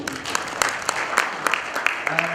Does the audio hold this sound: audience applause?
yes